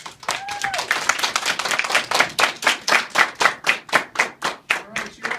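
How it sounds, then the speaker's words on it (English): A small crowd claps for newly sworn-in army recruits at an enlistment ceremony, a close, steady burst of applause that thins into slower, louder individual claps, with a brief voice near the start. "let's give them a round of applause real quick"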